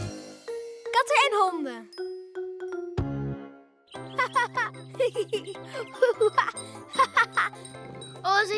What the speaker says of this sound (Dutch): Oh, ze gaat de bel vangen, Simon.